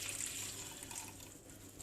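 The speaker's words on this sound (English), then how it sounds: "take your cheesecloth, or you can also take muslin cloth, and then just remove the excess water by pressing it like that" Water trickles and drips as freshly made paneer is pressed inside a muslin cheesecloth, a faint, close, steady dribble with no talking.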